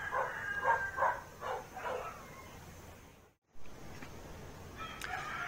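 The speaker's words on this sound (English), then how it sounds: "Some dogs, as you can hear, some chickens, and some chicken coops down there." Dogs bark and chickens cluck and crow around coops in a rural, semi-jungle Philippine village, with a cluster of moderately distant calls early on and fainter sounds later.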